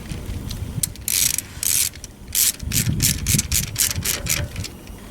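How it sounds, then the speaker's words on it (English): A tool ratchets in rapid bursts while bolts are screwed down during a tune-up on a 2013 Cadillac ATS 2.0T, several short clicking runs close by with brief pauses between them. "Then you can go ahead and screw these down."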